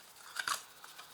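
A tarot card slid from the deck during a reading, a short, soft papery swish and brush close to the microphone with a faint tap after, heard alone.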